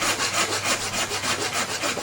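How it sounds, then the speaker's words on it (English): A hand saw rasps steadily down a kerf line in wood in a quick, even back-and-forth rhythm, close and fairly loud, with no talking. "So I'm sawing down my saw kerf line"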